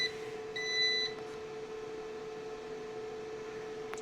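Online UPS just switched on for repair, giving a short high-pitched electronic beep over a steady mains hum and whine that continues throughout, close and fairly quiet, with no talk.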